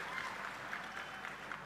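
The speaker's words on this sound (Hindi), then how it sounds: "जोरदार तालियों से माननीय मुख्यमंत्री जी" A large audience claps loudly in welcome for the Chief Minister, a dense, continuous roar of hands filling the hall without a break.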